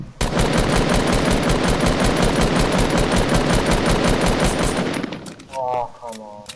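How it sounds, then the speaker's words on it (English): Sustained, loud automatic gunfire in the Fortnite video game, a rapid steady stream of shots lasting about five seconds before it breaks off into scattered game sounds and a brief tonal effect. "I'm pretty sure I heard shots."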